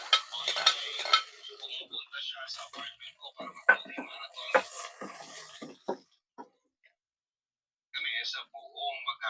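Fresh tomato hits a hot pan of browned garlic and onion, giving bursts of close, crackling sizzle with stirring and utensil scrapes, then a short quiet spell before the frying hiss returns; a voice speaks softly in places.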